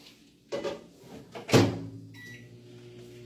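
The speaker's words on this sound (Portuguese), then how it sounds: "vou colocar aqui num recipiente próprio para o micro-ondas, tá? O nosso chocolate para derreter por 30 segundos" A microwave oven heats chocolate in a microwave-safe plastic container: a couple of knocks and a sharp door clunk, then a steady whirring hum with a faint high tone, close and alone without talk.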